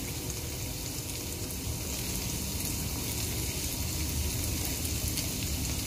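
Melting cheese sizzles steadily in a hot pan as its oil starts to ooze out, a dense, even crackle that holds at a constant level throughout.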